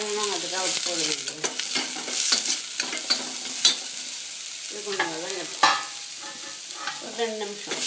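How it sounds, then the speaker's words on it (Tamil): Onions with salt sautéing in a pan for lemon sambhar: close, busy stirring and scraping over a constant sizzle, with a few louder spatula knocks, no talking. "எப்பவுமே வெங்காயம் வதங்கணும், அதுக்காக உப்பு போடுவீங்க"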